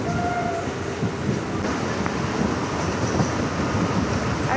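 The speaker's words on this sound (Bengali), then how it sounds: "আর ট্রেনটা দেখো একদম।" A train rumbles past Habibpur station in India, a continuous close and loud rolling roar with faint rail clatter throughout.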